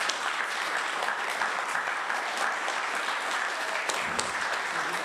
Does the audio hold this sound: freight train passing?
no